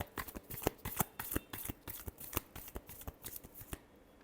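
Tarot cards being shuffled by hand, a close run of quick crisp riffles and taps in an uneven rhythm, fairly soft and alone without speech.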